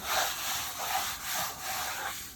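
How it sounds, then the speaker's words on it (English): A large squeegee rubs back and forth across a transfer in several rhythmic, broad swishing strokes, close up and fairly quiet, with no talk. "I'm going to take a large squeegee"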